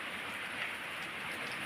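Steady rain pours down around a house, a dense, even hiss of drops on surfaces that stays constant throughout with no voices.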